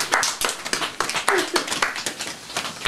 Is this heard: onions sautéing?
no